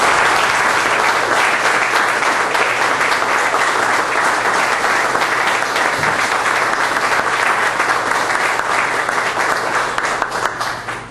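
An audience at a book presentation on Puerto Rican trade unionism applauds loudly and continuously, a dense wash of clapping from many hands that fades slightly at the end.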